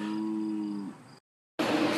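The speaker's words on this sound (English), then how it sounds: "I'm gonna get attacked by cows." A cow gives a single close, low, drawn-out moo that fades out, followed by a moment of silence and then a burst of rough outdoor noise.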